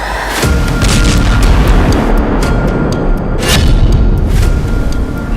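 Loud, continuous rumbling blasts with deep low-end roar and sharp bursts, like an explosion echoing through an enclosed space, from a tunnel being blown up.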